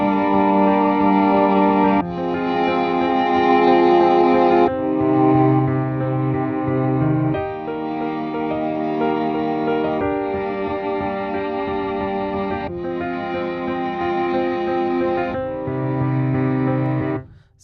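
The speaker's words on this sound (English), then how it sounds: "Let's go with that piano, and let's see what we have now" Keyscape sampled piano playing a beat of sustained chords that change every few seconds, loud and alone with no voices.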